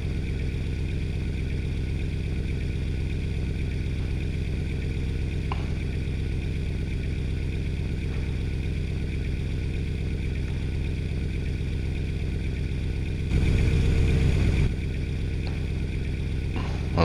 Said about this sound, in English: the Mercedes open pipe mod does make the engine sound a little louder in the cabin